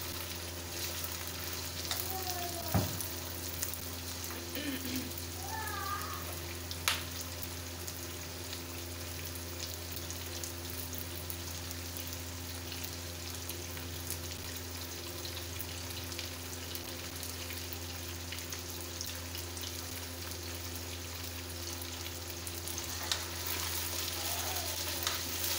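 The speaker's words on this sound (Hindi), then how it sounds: "तीन से चार मिनट के लिए हम इसे चिकन को फ्राई कर लेंगे" Chicken pieces frying in a pan for biryani, giving a steady, even sizzle with a few faint stirring clicks, fairly quiet and without talk throughout.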